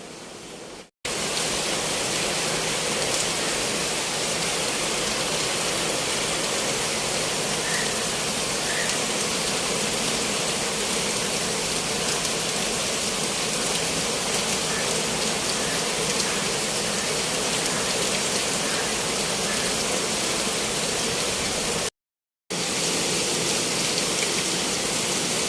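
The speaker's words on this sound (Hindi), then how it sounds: "हो रही है जमकर बारिश" Heavy midday rain pours down steadily, a dense, even hiss that stays loud and close with no letup, broken only by a brief dropout near the end.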